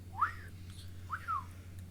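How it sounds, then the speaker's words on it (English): Two short, thin whistles rise and fall, one after the other, over a low steady hum. "then you hear like that slight whistle"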